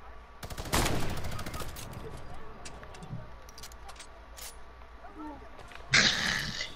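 Fortnite gunfire from a squad match cracks out in a rapid burst near the start and again near the end, with quieter scattered shots between, all under chatter from players.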